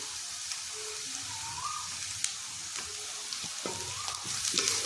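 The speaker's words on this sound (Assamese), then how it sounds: "পিঁয়াজ মই দি দিছোঁ এয়া ধুনীয়াকৈ ভাজি ভাজি অকণ ৰঙচুৱা হ'বলৈ দিম" Sliced onions fry in oil in a wok with bay leaf and dried red chilli for an Assamese egg curry, giving a steady close sizzle broken by a few sharp clicks and scrapes of stirring, with no talk.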